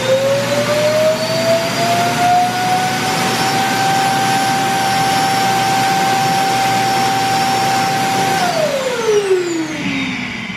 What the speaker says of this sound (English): when it goes back to the home base and empties out, that's pretty loud by comparison to the volume of the actual vacuum itself